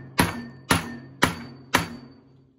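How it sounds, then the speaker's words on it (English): Four loud, evenly spaced hammer blows drive a hole punch through a snare or rack-tom drum shell, each strike sharp and close with a short ringing decay and no talking. "I'm actually gonna hammer it straight through there, like that."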